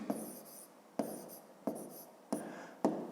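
Pen writing numbers on paper during a fifth-grade maths lesson, five short quiet scratching strokes in an even rhythm, close and alone.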